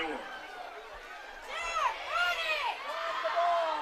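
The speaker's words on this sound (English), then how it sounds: "And these fans are cheering to run the ball here." Football fans in the stands at a live high school game, Lakeside vs Poly: a crowd roar swells and whoops rise behind a commentator speaking over it.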